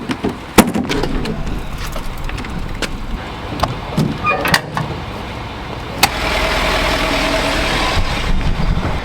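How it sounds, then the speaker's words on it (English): An RV engine fires up and settles into a steady, close idle, with scattered door thumps and clunks over the first few seconds before the engine drone takes over. "I can hear my dad just fired up the RV"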